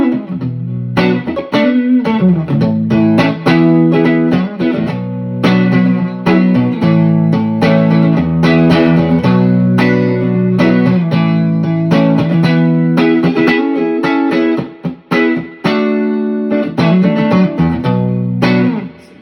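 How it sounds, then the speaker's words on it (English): Electric guitar on the neck pickup through the clean channel of a Peavey Classic 20MH mini tube head, loud, warm and full, with strummed chords and picked notes in a rhythmic pattern and a few brief pauses. "here's sort of the clean channel just on my neck pickup."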